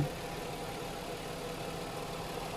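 Steady, even idle of a 2001 Nissan Cefiro 2.0 V6 Executive with the VQ20 2000cc engine, a constant close hum with no revving and no voices.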